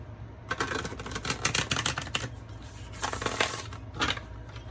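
Bursts of crisp riffling and clicking as a deck of tarot cards is shuffled up close, in quick rapid runs separated by brief pauses.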